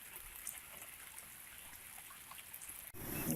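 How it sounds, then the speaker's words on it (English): Slow sprinkling rain falling outdoors, a faint soft patter of scattered drops over quiet background, ending in a sudden louder hiss. "It's been raining, well, a slow sprinkle for about 8 hours now."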